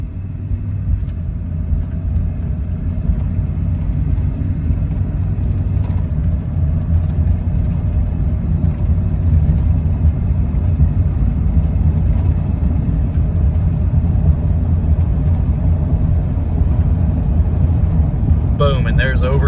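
A 1997 Dodge Ram 2500 pickup with a rebuilt transmission pulls through a normal acceleration, its engine a steady, loud low rumble with road noise throughout the cab and no gear-change peaks standing out.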